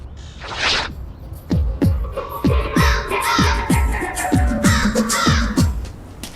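A crow caws again and again in a quick, steady series of harsh, fairly loud calls, with no talk.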